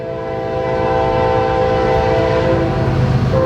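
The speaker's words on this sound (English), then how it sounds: "There's a train coming" A train rolls past close by and sounds its horn in a loud, sustained chord over the rumble and rattle of the cars, with no one speaking.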